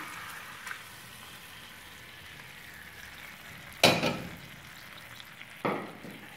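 A thick payasam with eggplant stirred in a pot gives a soft, low bubbling and scraping under a quiet background, with two sharper spoon-on-pot knocks near the end.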